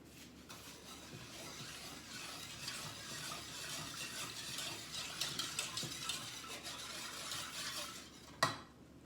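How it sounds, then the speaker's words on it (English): Wire whisk beating lemon meringue pie filling in a bowl, a steady rapid metallic scraping and clicking that runs throughout, loud and close, ending with a sharp knock near the end. "you're gonna get a whisk and mix all this together."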